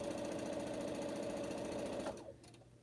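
A sewing machine runs steadily, stitching quilt four-patches from sewn pieces, a close, continuous mechanical whir with a fine rapid rhythm that cuts off near the end, leaving a quiet tail.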